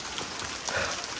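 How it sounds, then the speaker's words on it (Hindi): Heavy rain pouring down at night, a dense steady hiss of drops on surfaces, fairly faint and continuous with no talk. "बहुत ही ज़्यादा भयंकर वाली बारिश चल रही है"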